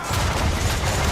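A naval ship's cannon broadside firing in the Assassin's Creed III video game, a dense, loud, continuous roar of booming gunfire filling the moment with no gaps.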